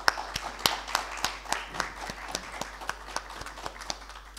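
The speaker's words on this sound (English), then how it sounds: "I think that deserves a loud, loud round of applause." Conference audience at a road transport conclave giving a round of applause, a moderate crowd of clapping with distinct sharp claps standing out, fairly close and steady without talk.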